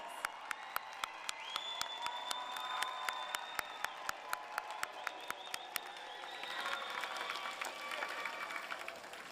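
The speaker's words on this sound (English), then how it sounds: "Graduates, big round of applause." Applause at a university psychology commencement, heard as fairly faint clapping and crowd noise from a distance, with sharp regular clicks running through it and a few whistles or cheers.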